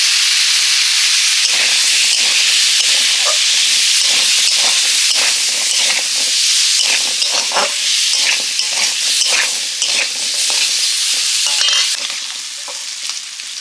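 Sweet pumpkin and potato pieces fry in hot oil for dal, a loud steady sizzle and hiss with frequent scraping stirs of a utensil against the pan throughout.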